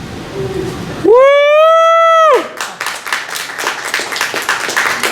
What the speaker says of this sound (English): How about a big round of applause for Joy?